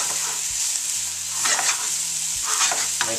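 Close, continuous sizzling of one onion and two cloves of garlic frying in a pan, broken by a few scraping stirs of a utensil; no one speaks.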